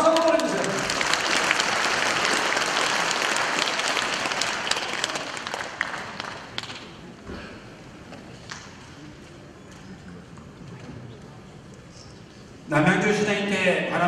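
An audience at a launch ceremony claps in loud, dense applause for several seconds that thins out and fades, followed by a quiet room and then someone speaking.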